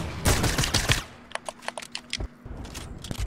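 Gunfire in the Fortnite video game comes as a dense burst of rapid shots, followed by scattered single cracks and short clusters at varying distances, with a brief pause before more fire near the end.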